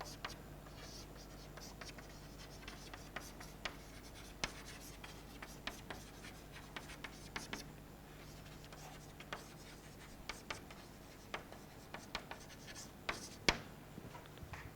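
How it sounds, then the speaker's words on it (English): Chalk or marker writing on a board during a university lecture on convex sets, a steady stream of faint scratchy strokes and soft taps in a reverberant room, with no talking over it. "So let me write it."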